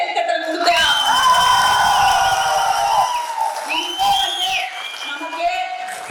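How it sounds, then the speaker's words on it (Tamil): A crowd at a political rally honoring a minister bursts into loud whoops and sustained shouting cheers, near and energetic, with voices rising and falling over a few seconds. "அவருக்கு நம்ம ஒரு பெரிய கைத்தட்டல் கொடுத்தோம்"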